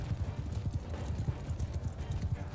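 Horses in Mount & Blade II: Bannerlord galloping, a rapid, continuous drumming of hooves in quick uneven triplets, close and fairly loud throughout.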